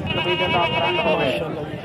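A goat bleats on a goat farm, a drawn-out wavering cry lasting over a second and fairly close, with low murmuring voices in the background.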